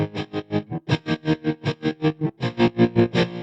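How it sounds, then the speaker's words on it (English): Distorted electric guitar chopped into a fast, even gated stutter by a gain knob being worked in Bitwig, roughly five pulses per second, steady and loud with no talking. "we're gonna use one of them to do the gated sound"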